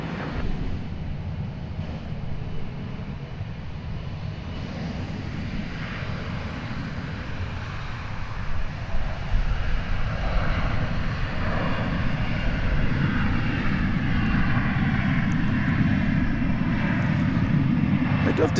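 An American Airlines airliner at DFW Airport rumbles steadily with a deep engine roar that swells louder partway through and stays strong to the end.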